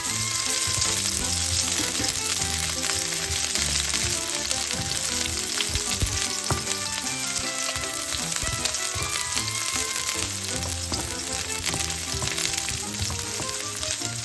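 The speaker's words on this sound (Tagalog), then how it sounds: "ilagay natin ang ating bawang, guys. Isunod natin ang sibuyas" Garlic and onion hiss and crackle loudly in a frying pan for pinakbet, a dense, unbroken sizzle that stays close and constant throughout with no voices.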